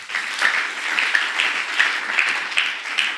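A church congregation at a ministers' retreat claps hands together, steady rhythmic applause filling the room, loud and sustained with no talking over it.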